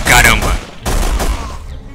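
Gunfire in The Punisher video game, a dense burst of shots over the first half, then another loud stretch after a brief break, with game noise and a voice mixed in.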